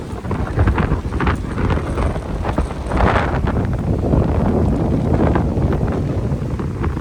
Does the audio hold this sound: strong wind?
yes